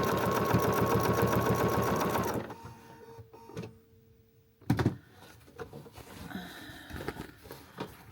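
A sewing machine stitches a flying geese fabric basket, a loud steady whir for about two seconds, then stops, leaving faint handling clicks and one short thump of fabric movement.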